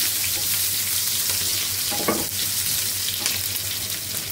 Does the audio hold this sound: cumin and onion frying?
yes